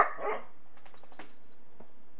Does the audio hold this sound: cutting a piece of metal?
no